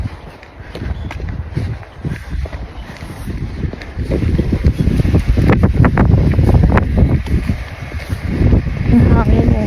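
Strong wind buffets the microphone outdoors on a hot, breezy day while walking to a grocery store, a loud rumbling roar that builds and stays heavy throughout, with voices talking underneath.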